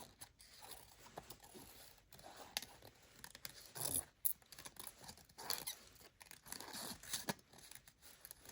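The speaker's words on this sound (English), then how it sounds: "I need to do a little bit more fussy cutting. making it just a hair smaller" Small scissors fussy-cut paper for a handmade card, giving faint, close, irregular snips and light paper rustles in a quiet room.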